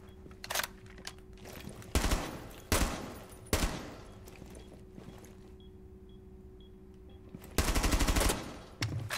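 Gunshots in the video game Rainbow Six Siege, a 1v5 match against AI bots: several sharp, loud single reports spaced a second or two apart, with a steady low hum and faint beeps between them.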